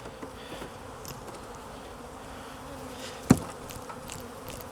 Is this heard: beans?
no